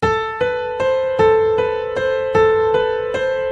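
A simple right-hand piano melody, single notes struck at a steady, moderate pace, each ringing clearly with bright sustained overtones, about nine notes in an even rhythm with no talking.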